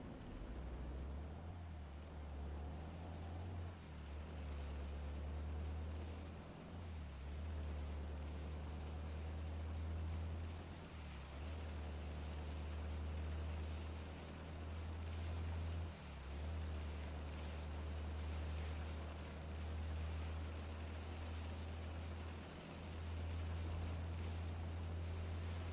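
A boat engine in the video game OUTBRK runs with a steady, loud low drone that carries through the whole stretch, broken only by a few brief dips, with a washy rush of water and wind layered on top.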